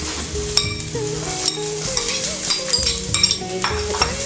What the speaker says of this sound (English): Now I'll add my onions.